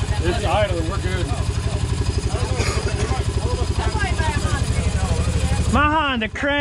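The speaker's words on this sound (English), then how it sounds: "It's idling. We're good." A Honda Pioneer 700 side-by-side that has taken on water idles nearby with a steady, rapid engine throb, while people talk over it.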